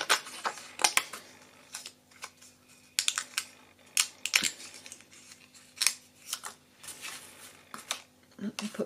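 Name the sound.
cutting paper for gift packaging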